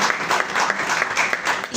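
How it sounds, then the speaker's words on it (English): An audience at an indoor book launch celebration gives a round of applause. The dense, steady clapping from many hands fills the whole short stretch at a loud, even level. "let's give it a round of applause"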